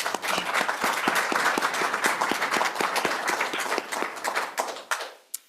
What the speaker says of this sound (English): So I just wanted to have a round of applause for